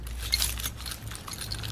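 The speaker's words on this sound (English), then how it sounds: "What's it sound like? It sounds like keys." Keys jangle and clink as they are shaken inside a pocket, a close, bright metallic rattle that runs continuously through the short moment with no voices.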